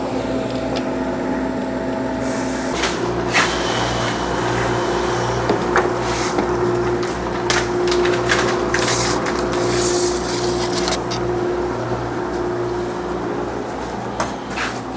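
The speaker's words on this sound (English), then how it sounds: "And now we're going to open the drain valve." Drain valve opened on a Cube freeze dryer after freeze drying feta cheese, letting out a continuous rushing, hissing drain flow with a steady low hum and scattered clicks, fairly loud and close.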